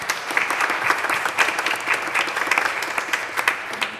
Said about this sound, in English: And you all should give yourselves a round of applause.